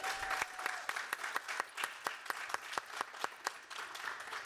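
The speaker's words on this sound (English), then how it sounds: "So I want to give you all a very big round of applause." A small conference audience claps sparsely, with distinct separate claps at a fairly steady pace, moderately close and without any talk over them.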